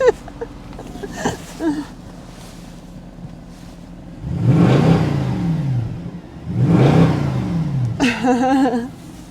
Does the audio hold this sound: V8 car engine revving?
yes